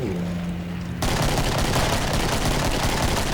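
Dense, continuous gunfire from a video game shooter, Killing Floor 2, erupting after a short quieter stretch and sustained loud rapid shots with booming low end throughout.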